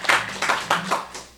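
A church congregation breaks into applause during a Sunday service, a short burst of clapping rising and falling in a few uneven waves over just over a second.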